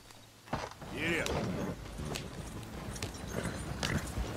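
Horses walking in the Red Dead Redemption 2 video game, hooves clip-clopping in an uneven rhythm at moderate distance, with people talking over the steps.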